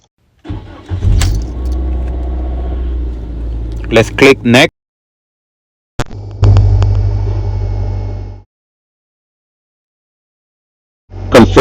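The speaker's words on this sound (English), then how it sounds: "So let me turn on the engine." A car engine cranks and catches, then settles into a steady low idle with the gearbox in park, heard in two separate runs that are each cut off abruptly, with a person talking briefly between them.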